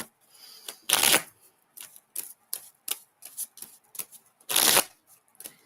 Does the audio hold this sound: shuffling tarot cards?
yes